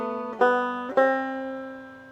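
Two single notes are plucked with a clawhammer downstroke on the 2nd string of a banjo, each bright, twangy and close, ringing out and fading after the second.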